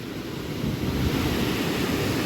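Continuous rushing of flowing water, a steady broadband roar that swells slightly and holds, from small waterfalls beside a temple at Kundamala near Pune.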